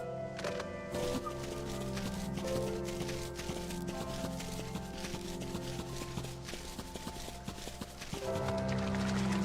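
Small horse mount in the video game Final Fantasy XIV clip-clopping in a steady walking rhythm, close and clear over constant game music, with a brief louder swell near the end.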